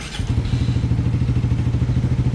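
A Suzuki Raider 150 Fi motorcycle engine idles steadily nearby with a rapid, throbbing low rumble and a slight mechanical clatter, no voices.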